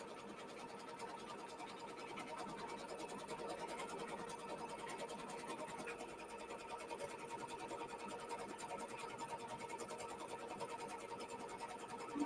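A sewing machine stitches a quilt block out onto stabilizer, giving a faint, even, rapid needle patter that runs without a break and with no voices.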